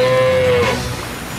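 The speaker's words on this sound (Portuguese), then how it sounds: "Ryder, tem uma vaca no pátio do Sr. Porter" A cartoon cow lets out a single loud, close moo that holds a steady low tone before trailing off, with no talk.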